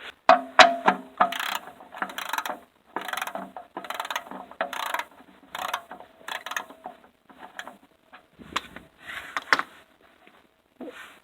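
A ratchet with a long 14 mm socket works loose a car's oil plug, giving repeated close, rapid clicking strokes in bursts with short pauses between.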